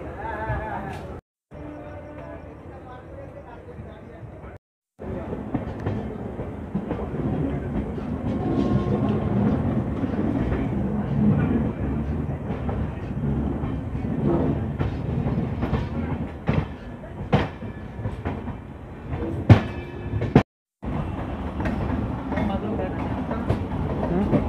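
The Gour Express train pulls away on the main line, with a continuous rumble and clickety-clack of wheels over rail joints heard from on board and occasional sharp knocks.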